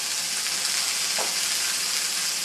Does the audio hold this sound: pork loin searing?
yes